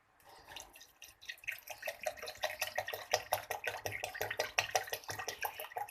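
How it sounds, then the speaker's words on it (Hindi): Cold water is poured from close by into a juicer holding curd, a splashy, gurgling stream that starts softly and grows into rapid, rhythmic glugs. "इसके अंदर डालेंगे अब पानी।"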